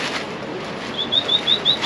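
Pigeons leave their coop in a burst of wingbeats, with a run of regular high squeaky flaps close by over steady outdoor noise.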